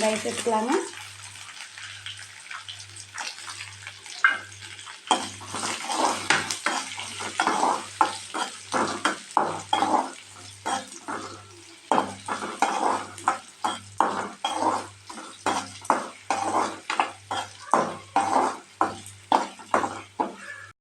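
Onions sizzle steadily in a hot pan while a utensil scrapes and stirs in quick repeated strokes, with a low electrical hum underneath.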